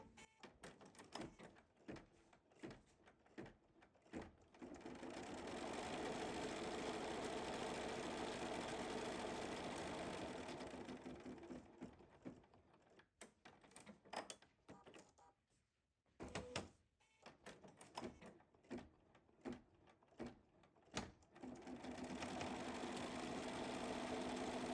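A home embroidery machine stitching appliqué flowers for a quilt block: long stretches of steady, fairly quiet whirring stitching alternating with bursts of rapid clicks and thumps as the mechanism moves between thread sequences.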